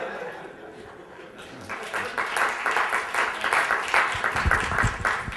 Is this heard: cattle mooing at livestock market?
no